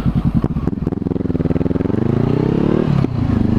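A motorcycle on a cold winter road coated in brine and salt decelerates close to the microphone, its engine popping in a rapid, loud rhythm that slows and drops in pitch before a brief blip.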